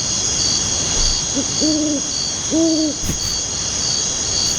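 An owl hoots twice in paired low calls over a constant high chirring of crickets, a steady night ambience with the hoots standing out close and clear.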